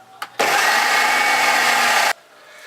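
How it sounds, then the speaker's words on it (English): A loud, steady whir of an electric mixer whisking dough with a teaspoon of tomato puree for red fettuccine, starting abruptly and running for under two seconds before cutting off sharply, with no talk over it. "So now whisk up"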